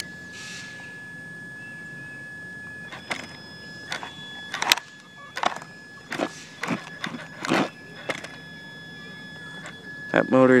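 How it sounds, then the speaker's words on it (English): An overloaded brushed RC motor strains and overheats to the point of smoking, holding a thin steady high whine while someone talks in bursts over it. "You can hear the motor struggling a little bit."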